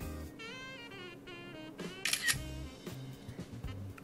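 A phone camera shutter fires with a quick, crisp click, set off from a FINDORBIT card-type tracker, amid faint background noise and soft tones.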